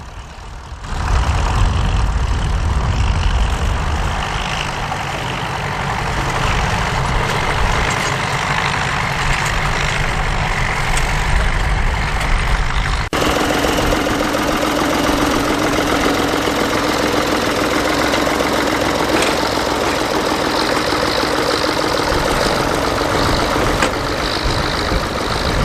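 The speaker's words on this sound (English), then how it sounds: "This Ford 7810 sounded quite nice with a straight through exhaust" A Ford 7810 tractor with a straight-through exhaust runs at a farm roundup event, its loud, steady, gruff diesel note close by and continuous, shifting in tone about halfway through.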